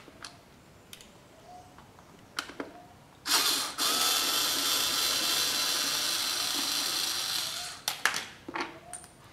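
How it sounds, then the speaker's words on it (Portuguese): A ratchet backs out the screws on the air filter box of a Yamaha XV 250 Virago motorcycle. A few faint ticks come first, then a loud, steady run of rapid clicking lasting about four seconds, followed by scattered clicks. "agora a gente vai tirar os dois parafusos aqui da caixa de ar daqui e daqui"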